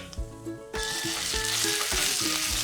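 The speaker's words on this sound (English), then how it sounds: "So you can hear the splatter, and it's already cooked." Escarole sizzles loudly in hot oil with sharp, irregular pops of splattering grease, close by and continuous.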